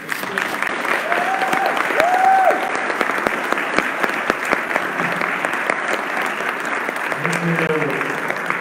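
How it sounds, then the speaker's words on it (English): A church congregation at Unity of Dallas gives warm applause welcoming a guest speaker, a full, close clapping crowd with sharp individual claps and a few cheering voices rising above it. "Let's give a complete warm welcome of Unity of Dallas, applause and heartfelt love to our speaker today, Steve Sisgold."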